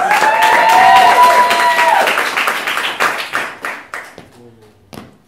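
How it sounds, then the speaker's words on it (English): Applause erupts at an awards ceremony, loud clapping with a few cheers that thins into scattered individual claps and then a final lone clap, with brief voices over the start. "Huge round of applause, everybody."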